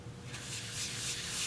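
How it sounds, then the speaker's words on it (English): A short, soft scrubbing sound of abrasive paste being rubbed onto a paper towel, steady and close, in a woodturning workshop. "I'm just applying it to a paper towel."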